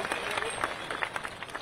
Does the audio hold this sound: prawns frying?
no